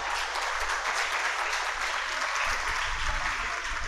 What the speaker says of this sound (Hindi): वो आदिश भाई ताली बजा रहा है